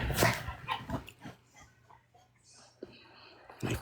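A dog whimpers and makes short whining, grumbling vocal bursts close by, with quiet gaps between them and a louder burst at the start and end.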